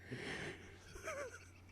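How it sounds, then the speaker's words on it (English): A person yawning, a drawn-out breathy exhale with a rising then falling voiced tail near the end, faint and close, with no talk. "How is it possible for somebody to yawn that many times in a row?"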